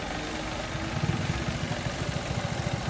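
Engine of a Mitsubishi Mirage G4 shaking on a soft, worn rubber engine support, a close, steady idle rumble with a rhythmic low thumping pulse.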